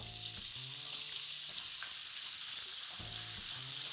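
Pork sizzles loudly in hot oil in a wok over high heat as part of a stir-fry with pointed cabbage and pineapple, a steady crackling hiss throughout with brief clinks from a utensil.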